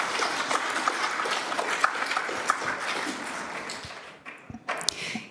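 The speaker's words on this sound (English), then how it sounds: "If we could just not have the clapping." Audience clapping in a council chamber during a regular meeting, a dense, steady round of applause that thins and breaks into a few scattered claps near the end.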